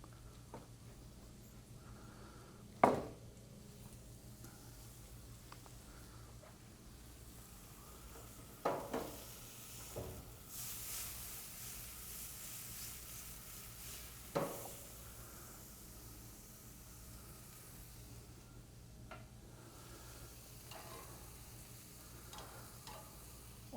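Meat and pita bread sear on a hot BBQ griddle, a faint steady sizzle running throughout with a few sharp clicks and scrapes of a utensil against the metal.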